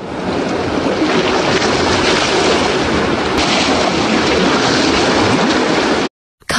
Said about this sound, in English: Sailboat.